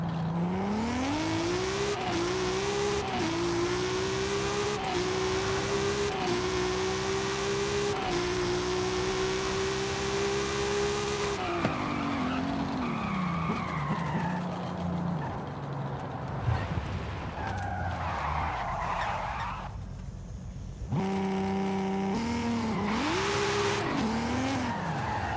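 Turbocharged car in Forza Horizon 5 revving hard through repeated gear changes, with tyres squealing as it drifts; loud and continuous, briefly dropping away before the engine climbs again.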